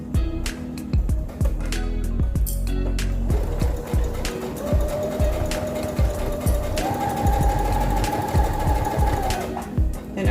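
A sewing machine stitches a pencil bag made from custom sublimation-printed fabric, running in a steady, close whirring hum for the whole stretch with brief slowdowns and a rise in pitch partway through.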